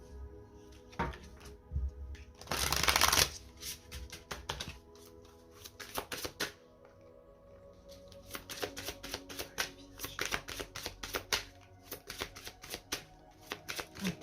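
Oracle cards from a moon oracle deck are shuffled and cut: a short loud burst of riffling, then a long run of quick, closely spaced card slaps and flicks, up close with no talk.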